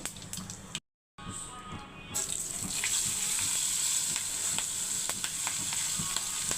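Mustard seeds, cumin and turmeric frying in hot oil for cabbage egg fry, a close continuous sizzle with faint crackles, cut by a brief dropout early on, then steady and fairly quiet.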